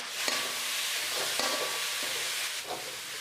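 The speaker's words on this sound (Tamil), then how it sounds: "இது எல்லாமே சேர்த்து அந்த ஆயிலே நல்லா ஃப்ரை ஆகட்டும்" Green chillies and chopped tomatoes fry in hot oil with a steady, bright sizzle and hiss, broken by a few sharp clinks of a ladle against the pan, close and continuous without any talking.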